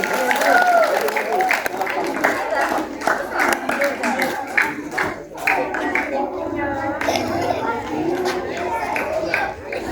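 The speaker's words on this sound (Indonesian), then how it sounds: "Tepuk tangan untuk Mbak Vivi." Scattered applause from a crowd at a primary school flag ceremony, hands clapping steadily while voices chatter and talk over it.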